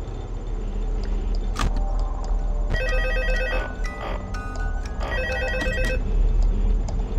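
A phone rings in the video game Five Nights at Freddy's 2, two bursts of an electronic ringing tone over a steady low game hum, with clicks and thumps between them.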